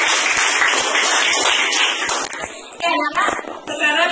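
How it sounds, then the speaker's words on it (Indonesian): Schoolchildren in a classroom clap their hands on their chests in quick, loud rhythmic pats, mixed with the children's voices. "tepuk tangan di dada."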